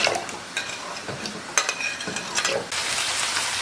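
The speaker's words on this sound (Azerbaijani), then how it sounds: "Gördüyünüz kimi soğanlarımız da qəşəng başlayır hələ indi qızarmağa." Onions for Baku-style turşu qovurma fry in a pan over moderate heat, a close, bright sizzle broken by stirring scrapes and utensil taps against the pan, with the frying swelling louder toward the end.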